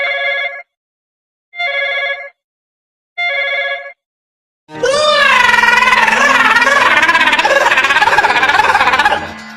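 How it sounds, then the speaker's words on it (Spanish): A red bedroom telephone rings in three distinct bursts with short silences between, then a continuous wailing, shifting tone takes over loudly until the end. "el teléfono rojo que tengo en mi alcoba empezó a sonar"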